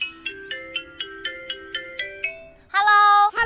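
A phone call tone sounds alone: a series of evenly spaced short beeps stepping slowly upward, followed by a brief louder, buzzy ringing burst that cuts off.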